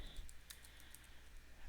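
Light tapping on a computer keyboard that is acting up, a few quiet, scattered keystrokes over a low background hum, close but faint.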